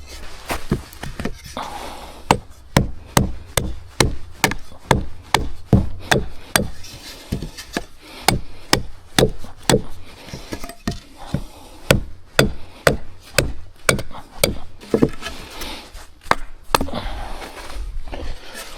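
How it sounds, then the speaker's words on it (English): Repeated heavy thuds of a hammer striking a wooden stake, a steady rhythm of blows with short pauses, close by and loud, no speech. "I might hammer this into the ground."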